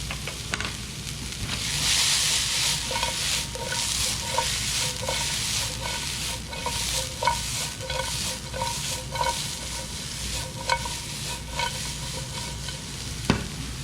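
Shredded carrots and diced vegetables stir-frying in a hot pan for chicken lo mein, a steady close sizzle broken by repeated scraping and tossing strokes of a utensil, with no talking.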